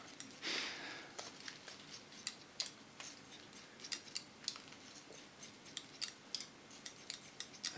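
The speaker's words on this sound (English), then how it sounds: "here I create a freehand deep slice technique. So I get a little, no, not a little, I take a lot of weight of her hair." Scissors snipping through a woman's hair during a freehand deep slice haircut that removes a lot of weight for an ultra short summer style, giving a steady run of crisp, close clicks and slicing strokes with no talking.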